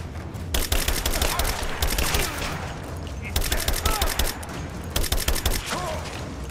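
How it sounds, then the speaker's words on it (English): Heavy automatic gunfire in the video game Rise of the Tomb Raider, several loud sustained bursts of rapid shots in close succession with short gaps between them. "I'm under fire."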